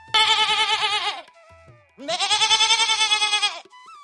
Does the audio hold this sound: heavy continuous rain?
no